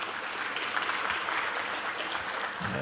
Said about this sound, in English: Let's give John a good hand of applause for his presentation